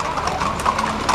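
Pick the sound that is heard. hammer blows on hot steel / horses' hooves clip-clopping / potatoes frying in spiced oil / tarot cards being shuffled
horses' hooves clip-clopping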